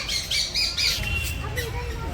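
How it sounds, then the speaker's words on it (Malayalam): At Thrissur Zoo, a macaw gives three harsh, rasping squawks in quick succession, fairly close and loud, followed by softer chirps as a person talks nearby. "ഇതാണ് നമ്മളെ പഞ്ചവർണ്ണ തത്ത."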